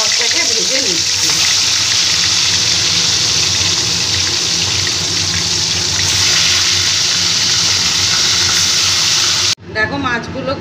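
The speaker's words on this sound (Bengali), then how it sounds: "এবার আমি বাটা মাছটাকে ভেজে নিচ্ছি।" Bata fish rubbed with salt and turmeric fries in hot oil, a loud, steady, close sizzling hiss that runs unbroken for about nine seconds before cutting off, with a voice following.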